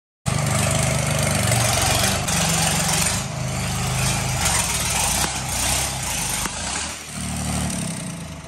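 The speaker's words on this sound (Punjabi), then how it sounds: "ਸਾਨੂੰ ਟਰਬੋ ਦੀ ਆਵਾਜ਼ ਸੁਣਾਉਂਦੇ ਹਾਂ" New Holland 3600 tractor engine fitted with a Holset turbo, running loud and close with a steady diesel idle and a continuous high turbo whistle, the revs dipping and rising slightly a few times.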